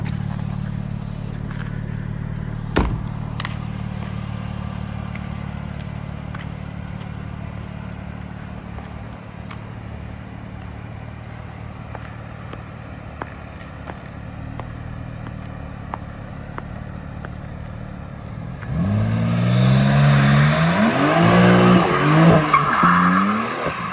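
A BMW G80 M3 idles with a steady engine drone for most of the stretch, then near the end bursts into loud revving with squealing, spinning tires that build into a harsh, sustained screech close by.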